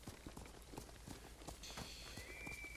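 A white horse in Ghost of Tsushima trots along with quick, rhythmic hoof clip-clops, fairly faint, while a high ringing tone rises near the end.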